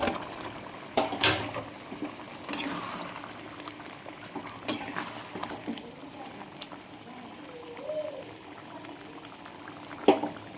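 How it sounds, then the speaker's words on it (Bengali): Fish curry gravy bubbling and simmering in a pot, with scattered pops and clinks standing out over a steady low bubbling, fairly quiet and close. "দেখুন আমার এখানে ঝোল ফুটছে"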